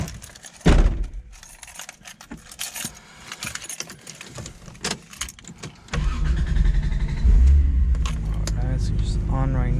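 A Toyota Supra Mk4 after an air conditioning repair: the car starts, then the AC compressor kicks on with a loud, steady low mechanical hum and whir that persists, following earlier clatter and knocks, with a person talking over it.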